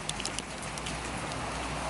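Rain falling steadily on a flooded backyard, a soft continuous patter with a few sharper drips up close and no voices.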